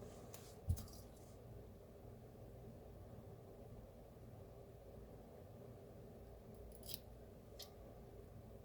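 Scissors trim a thin plastic polarizing filter for a Casio display with a few quiet, close snips, one sharp cut early and softer ones later, over a low background hum.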